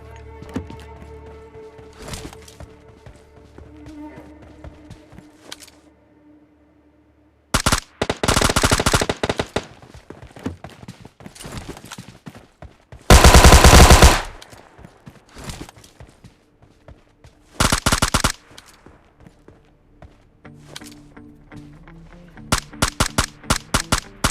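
Gunfire in PUBG Mobile Lite comes as several loud, sharp automatic bursts separated by quieter stretches of footsteps and game ambience, with a last cluster of single rapid shots near the end.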